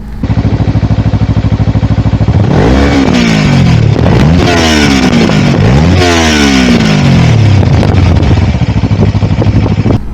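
A Kawasaki Ninja 300 motorcycle engine idles loudly up close, then revs hard several times in quick succession, pitch climbing and falling with each throttle blip before settling back.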